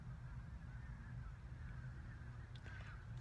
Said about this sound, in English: Wow, there's birds all.